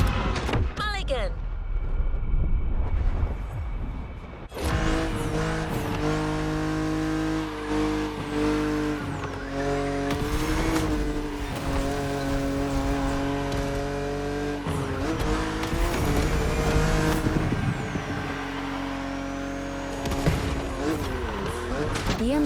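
A BMW Z roadster in The Crew Motorfest races along with a loud, sustained engine note that rises and falls through gear changes, with occasional tire squeal and a steady voice talking over the driving.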